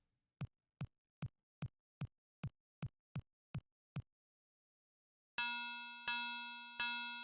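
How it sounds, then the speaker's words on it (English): A mallet strikes a bell in the Indiana Jones and the Last Crusade graphic adventure game: nine evenly spaced short knocks, then three loud ringing bell tones that each sustain and decay, with no talking. "Use mallet on bell."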